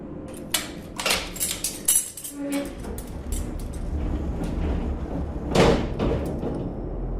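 A door knocks and rattles open amid a scuffle of footsteps and handling noises, with several sharp impacts early on and a louder bang toward the end.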